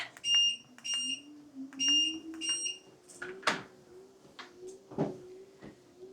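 A treadmill gives a few short, high electronic beeps in quick pairs at the start, then a steady mechanical hum with scattered knocks and thumps.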